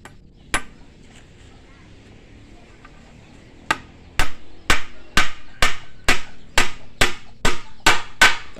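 A hammer drives nails into a bamboo painting stand, starting with a few isolated knocks, then a steady run of about a dozen sharp, ringing blows close by.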